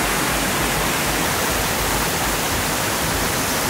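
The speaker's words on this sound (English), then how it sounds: "look, it's a waterfall" A small waterfall on a jungle river, low at the end of the dry season, rushes in a loud, constant wash of broadband water noise close by, with no talk over it.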